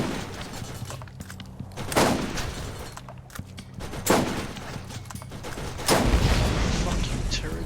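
Bursts of turret fire and explosions in the Borderlands video game, with several loud booming blasts spaced a couple of seconds apart over a constant rumbling battle bed.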